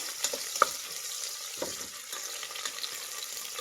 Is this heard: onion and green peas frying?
yes